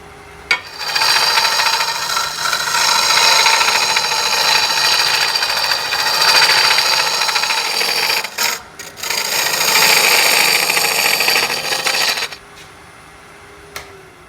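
A new hollowing tool cuts wood on a lathe, a loud, continuous close-up rasping and scraping that pauses briefly twice and stops near the end.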